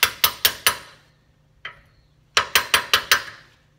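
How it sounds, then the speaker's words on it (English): Sharp metallic taps of a socket hammered onto a CV joint boot clip on a VW Bay Window Bus, a quick run of four strikes, a single tap, then five more in a brisk burst, close and clear. "I've got a larger socket here. I'm just going to tap that home."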